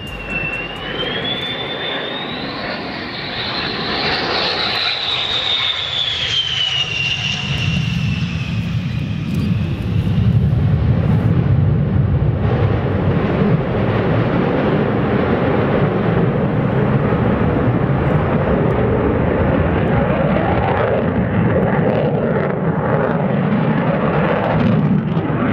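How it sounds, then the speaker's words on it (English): An F-111 jet performs a dump and burn at an air show in Australia, a rising engine whine giving way to a loud, sustained roaring rumble that swells and holds for a long stretch, with no voices. "This F-111 shooting huge flames known as a dump and burn maneuver."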